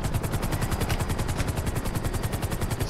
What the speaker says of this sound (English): Let's let this helicopter get up.